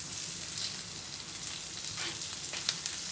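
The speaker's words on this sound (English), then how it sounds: "Okay, so now our onions go in." Onions for a masala dosa filling sizzle in a pan, a soft steady frying hiss with faint crackles and no voices.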